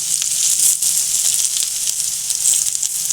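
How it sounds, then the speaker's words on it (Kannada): Bitter gourd fries in a hot pan with a steady, loud sizzle and faint crackles running throughout, with no voices. "ನೋಡಿ, ಈ ಥರ ಫ್ರೈ ಮಾಡ್ಕೋಬೇಕು."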